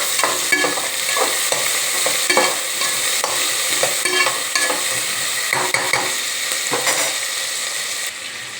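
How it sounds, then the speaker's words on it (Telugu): Vegetables, potato, tomato and carrot with coriander, fry in a pan with a steady loud sizzle while a spoon stirs and scrapes in frequent irregular strokes throughout. "ఇది కొంచెం వేగాలి."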